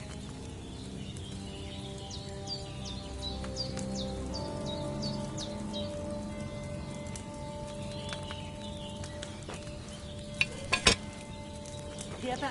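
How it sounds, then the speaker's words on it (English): Potion cauldron bubbling as it boils over a fire in the medieval game Kingdom Come Deliverance 2, a soft continuous simmer under faint birdsong, with a few sharp clinks near the end. "Hear that bubbling? It's boiling."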